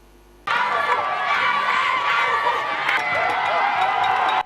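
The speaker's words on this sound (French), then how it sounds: "Tous mobilisés comme un seul homme ont applaudi leur fils le long du parcours" A crowd lining a route cheers and claps to welcome a returning native son, with dense, steady roaring, shouts and whoops sustained loudly throughout.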